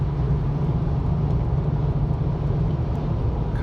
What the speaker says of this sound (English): there's already a lot of traffic out here.